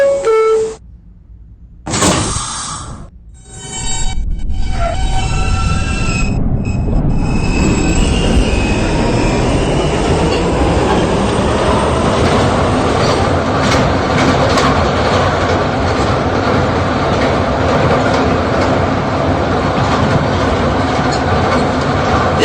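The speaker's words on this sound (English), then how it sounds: "This is the Catalan Bound D Train." An R160B D subway train gets under way, rumbling and squealing along the rails with a steady, loud roar that builds and holds as it gathers speed, after a brief quieter stretch at the start.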